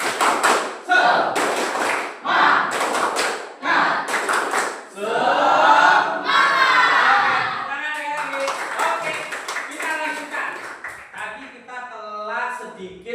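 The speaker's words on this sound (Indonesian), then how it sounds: "Tepuk semangat." A seated group does rhythmic spirit clapping in bursts of quick claps, with voices chanting and calling along between the patterns, close and lively.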